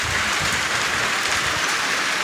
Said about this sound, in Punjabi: ਦੇਖੋ ਕਿੰਨਾ ਤੇਜ਼ ਮੀਂਹ ਆ ਗਿਆ